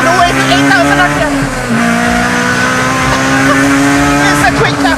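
Honda EF race car engine revving hard in second gear as VTEC engages, climbing toward 8,000 RPM, a loud, close, steady high-pitched howl with rising tones throughout.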